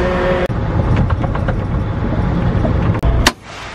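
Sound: truck being moved and parked in a shop

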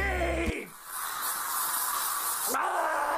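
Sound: spray paint hissing from a can

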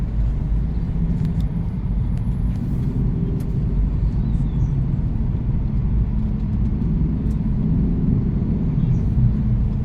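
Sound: heavy night traffic on a highway in San Mateo

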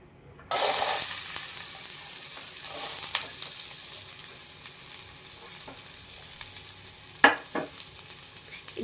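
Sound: frying onion, green chili, coriander and ginger in pan

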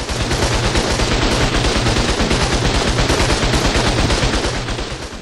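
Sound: gunfire and turrets shooting in the video game ARK Survival Evolved

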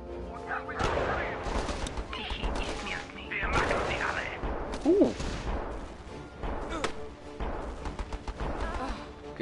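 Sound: snipers firing guns in video game Battle Island Commanders

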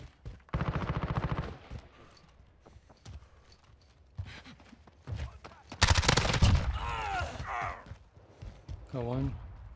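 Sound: gunfire in Call of Duty Modern Warfare video game

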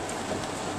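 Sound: pouring rain

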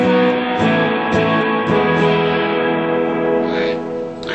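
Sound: guitar through huge spring reverb pedal

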